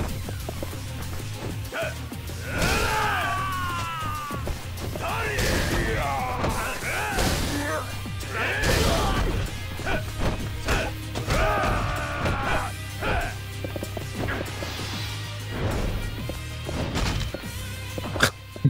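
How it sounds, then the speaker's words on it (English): Yakuza 5 combat with a bike attack that snaps an enemy's spine: a run of thuds, crashes and snapping impacts over steady game background sound. "That's the sound of a broken spine."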